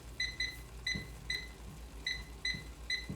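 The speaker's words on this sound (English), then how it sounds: "There we go, timer, 2:30." A kitchen timer gives a run of bright electronic beeps in quick pairs and singles as it is set, clear and close over faint kitchen background.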